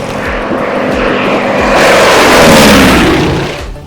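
A BT-13 trainer airplane at an air show fly-in in Glendo, Wyoming runs its radial engine close by, a loud droning roar that swells toward the middle and then eases off.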